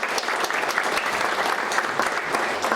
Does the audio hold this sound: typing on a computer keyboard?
no